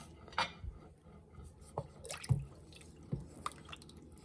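Organic seafood stock for lobster bisque poured into a pot and stirred, faint wet drips, splashes and soft liquid sloshes scattered across a quiet few seconds.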